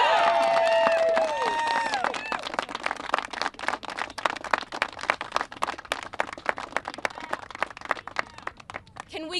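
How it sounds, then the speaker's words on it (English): A crowd applauds Representative Al Green at a press conference, sustained clapping at first under a clear voice, then scattered claps thinning out over the rest. "Can we get one more round of applause for Representative Al Green?"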